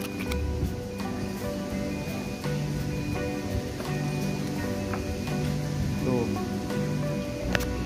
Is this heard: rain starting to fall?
yes